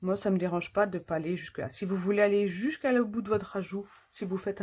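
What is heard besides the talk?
None of the usual background noises is heard.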